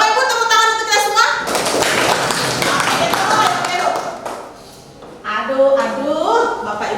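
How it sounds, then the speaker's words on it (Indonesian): Audience of adults at a school teachers' training session clapping hands together, a dense patter of claps under a presenter's loud voice, fading briefly before talk resumes. "Bapak Ibu tepuk tangan untuk kita semua."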